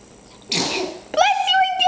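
A child sneezes again, a loud close breathy burst while reading a Thomas book with a parent, followed by a short voiced sound like someone speaking.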